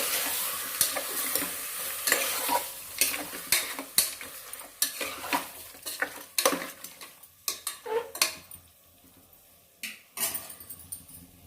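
Mutton fries in a pan for a field-bean mutton curry while it is stirred and scraped repeatedly. Rhythmic utensil strokes rise over a continuous close sizzle and grow sparser toward the end.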